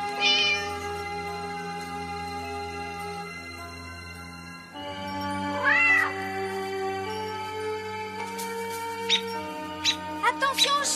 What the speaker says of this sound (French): Attention au chat!